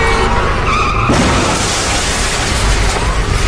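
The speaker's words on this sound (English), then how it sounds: "The criminals plow into a packed sedan." Cars collide at more than 60 miles an hour as fleeing criminals plow into a packed sedan: loud skidding and a sudden impact, followed by a dense, continuous roar of noise.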